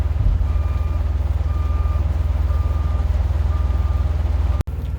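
A truck backing in during a thunderstorm sounds steady reversing beeps, about one per second, over a constant low engine rumble, ending with a sharp thud.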